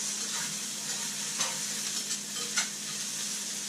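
Onions frying in a pot for beef soup, some of them beginning to char, give off a steady close sizzle with a couple of soft stirring scrapes and no voices.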